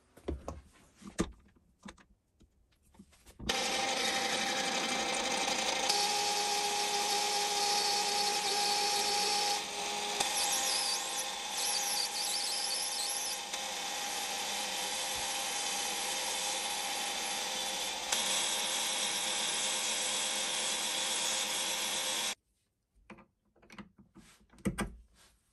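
A metal lathe turns a part for a homemade knife sharpening jig, a steady, loud machining whine with shifting tones that runs for about nineteen seconds and then cuts off, with quiet workshop handling before and after.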